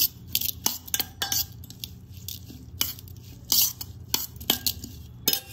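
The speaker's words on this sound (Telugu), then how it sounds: "ఇవన్నీ బాగా మిక్స్ చేసి" A spoon stirs bhelpuri ingredients with lemon juice in a bowl, giving quick, irregular clinks and scrapes of metal against the dish. The close, bright taps come in short bursts with soft rustling between them.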